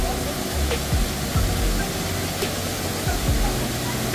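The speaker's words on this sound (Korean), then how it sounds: "폭포가 바로 보입니다." Steady rushing roar of Janggak Falls in Sangju, broad and constant, close by, with faint scattered thumps underneath.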